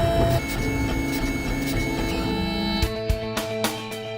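A 3D printer runs continuously up close, a steady mechanical whir with tonal stepper-motor whines and short clicks and knocks toward the end, and no talking.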